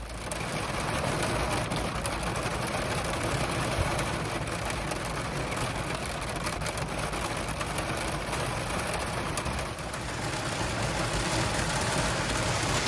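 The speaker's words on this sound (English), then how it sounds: "I think you could definitely say it's raining." Steady, dense rain hisses continuously without a break, a broad even wash of noise that stays loud throughout.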